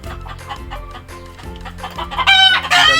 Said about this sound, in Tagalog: Daming manok, native yan na manok.